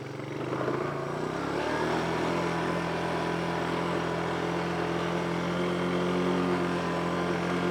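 A 1983 Honda three-wheeler engine pulls in first gear, a steady close droning hum that rises slightly in pitch after the first second, then holds at a constant loud level with no talking.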